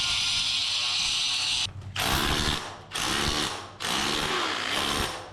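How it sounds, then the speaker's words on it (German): A loud, harsh grinding whine runs in three long bursts with brief dips between, close and continuous like an angle grinder cutting. "das ist einfacher, wenn ich mal eben mit der Flex einmal oben schneide, unten schneide."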